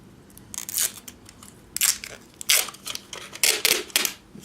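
Tape is handled and pressed onto a homemade sugar carbon battery in a series of crackly, crinkling bursts of varying length, close and fairly loud.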